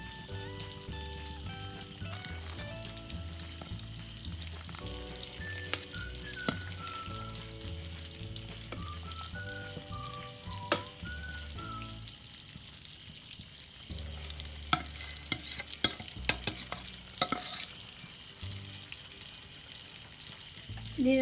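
Cooked rice and green gram for kichadi being mixed in a pan, with soft scraping stirs and light clinks of a spoon against the pan under gentle background music.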